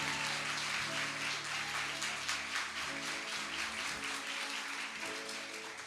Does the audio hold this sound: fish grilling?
no